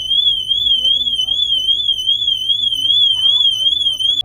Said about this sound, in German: Die Alarmanlage löst aus.